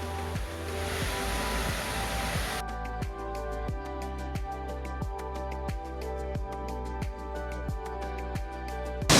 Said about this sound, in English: the force of this waterfall coming down is so strong